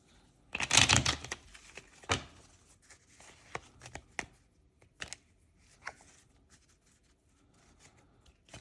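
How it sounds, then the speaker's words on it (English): Playing cards being shuffled for a tabletop wrestling game: a loud riffling burst at first, then scattered softer flicks and snaps of cards being mixed. "Give me a second to shuffle these cards up."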